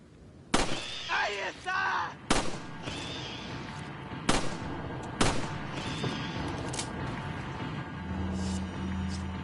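Handgun shots in the Resident Evil video game, a few sharp, loud single reports spaced apart, with someone talking between them.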